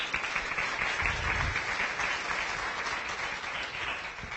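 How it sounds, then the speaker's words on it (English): A writers festival audience applauds warmly, a dense, even wash of clapping that holds steady and tapers only slightly toward the end, with no speech. "So I think we can give Ronni another round of applause."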